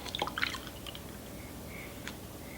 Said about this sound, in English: I'll pour the milk and Lando can pour it in the bowl.